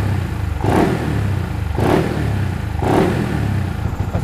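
An underbone race motorcycle engine, built up and running on a dyno, revs hard three times in a steady rhythm, each throttle blip swelling to a loud rasp over a clattering idle, close up.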